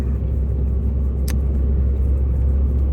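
A vehicle drives along an asphalt road, its low rumbling engine and tire noise steady and close, with one brief sharp tick partway through. No one speaks.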